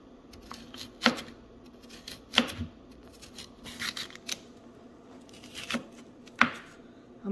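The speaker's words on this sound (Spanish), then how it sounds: "Aquí estamos rebanando la zanahoria, tamaños no muy delgados, tampoco muy gruesos" A knife slices carrot into medium-thick rounds on a cutting board, giving sparse, crisp chopping taps at irregular intervals, close and fairly quiet.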